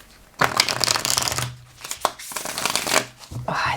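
Thin-stock tarot deck being riffle-shuffled and bridged, with several bursts of crisp, rapid card flutter close by, separated by brief pauses, with a voice talking over the shuffling.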